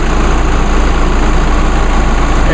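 A 2.8-liter four-cylinder Duramax turbo diesel idles steadily up close, a loud, even low-pitched clatter and rumble with no one talking.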